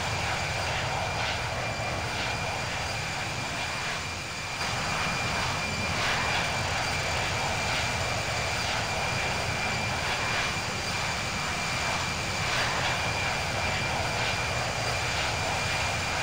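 Air France airliner engines roaring steadily through a takeoff roll on runway 26 right in gusty wind, a loud continuous broadband rumble heard from inside the cabin with no talk.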